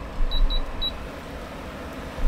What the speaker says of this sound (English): Honestly, stop beeping at me.